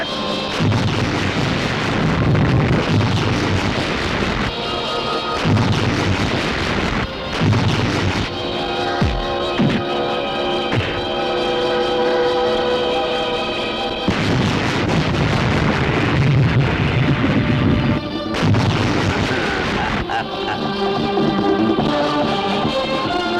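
Grenade blasts in a Bollywood action movie battle: repeated heavy booms and crashing bursts roll through a dense, loud soundtrack with debris and clatter, sustained throughout with brief gaps between impacts.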